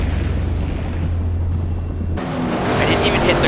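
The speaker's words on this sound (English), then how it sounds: "I didn't even hit the ground, I'm not sure why I blew up." A car blows up in the off-road racing game Motorstorm Monument Valley: engine and rumbling noise give way to a sudden loud explosive burst that roars on afterward.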